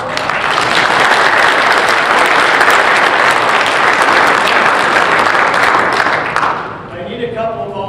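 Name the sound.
applause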